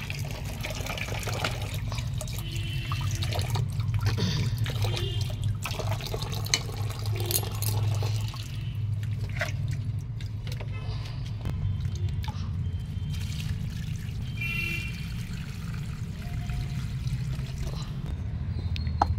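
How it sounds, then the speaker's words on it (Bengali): Water runs from a tap into a bucket in a home garden, a steady, moderately loud splashing and gurgling stream that continues throughout with no speech. "ওই যে কল ছেড়ে রেখেছি,"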